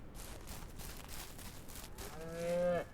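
A cow lows once near the end in the farming game Ranch Simulator, a loud drawn-out moo rising over a steady outdoor ambience, with no talking.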